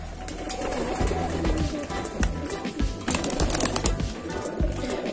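Pigeons drinking hot herbal tea, with busy close-up pecking and sipping taps against a dish, soft cooing and rustling among the birds, continuous and fairly loud.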